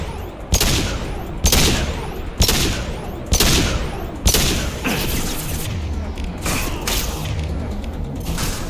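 Gunfire from Mass Effect 2: five loud, evenly spaced broadband shots ring out about a second apart, each followed by a short decaying tail, then fainter scattered pops and mechanical clatter trail off.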